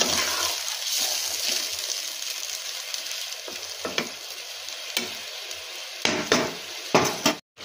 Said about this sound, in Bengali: এবার ঝোলটা একটুখানি ফুটে উঠবে।